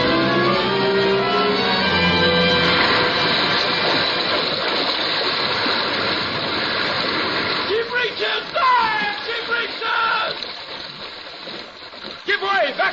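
Sea water rushes and splashes in a continuous surging wash, with voices and music mixed in under and over it, in a 1946 radio drama.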